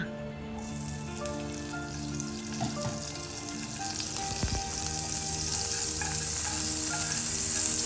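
Butter sizzles and crackles steadily in a pan over low heat, a continuous close frying hiss that grows slightly louder, with a few soft clinks.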